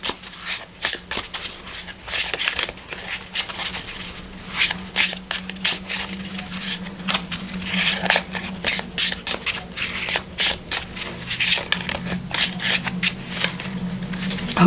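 Oracle cards shuffled by hand for a love reading, a steady run of crisp riffling and slapping bursts close up, repeating without pause over a faint low hum.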